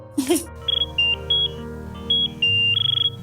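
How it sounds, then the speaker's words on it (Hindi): A phone rings with short electronic beeps in separate bursts, then a longer warbling trill at the end, heard up close after a brief voice at the start. "माँ जी का फोन है।"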